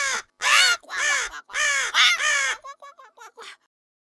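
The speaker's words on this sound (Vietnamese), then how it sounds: "Lại là tiếng con quạ xấu xí" A crow in an animated Vietnamese 3D fairy-tale film caws several times in loud harsh bursts, then trails off into a quicker run of fainter, clipped calls before falling silent.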